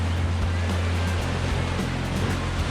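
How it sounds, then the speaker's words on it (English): Water sloshing through a hollow cavity along a Newfoundland rail trail, making a continuous rushing, gurgling wash with low churning surges, fairly close and steady. "it's water probably going in a hollow cavity"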